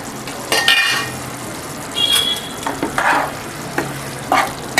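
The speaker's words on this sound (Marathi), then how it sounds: "दहा मिनटासाठी चिकन शिजवून घेऊया" Chicken gravy sizzles in a pan while a spoon scrapes and stirs it in several short bursts, up close and with no talk.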